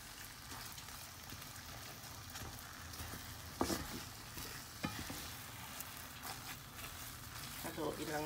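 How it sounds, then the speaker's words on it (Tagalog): Mashed sweet potato being stirred in a pan with a utensil, giving a soft continuous scraping and squelching with a few sharper knocks, fairly quiet. "Haluin lang natin ng maayos para po."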